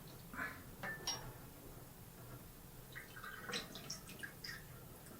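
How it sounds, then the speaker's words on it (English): Water dripping and trickling through the filter of a water filter jug in a kitchen, soft irregular drips and light plastic clinks, quiet and close with no voices. "You see how quickly the water passes through the filter"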